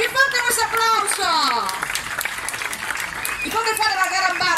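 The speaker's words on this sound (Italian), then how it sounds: "Più forte questo applauso." Audience applause at a cinema event welcoming a comedy actor, a crowd clapping steadily under excited voices and cheers, with children's voices among them.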